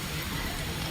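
Steady rain pours down as a dense, even hiss of drops hitting surfaces, loud and close with no pauses.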